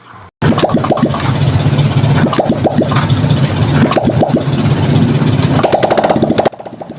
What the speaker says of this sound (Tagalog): makikita na natin na umaandar na yung ating makina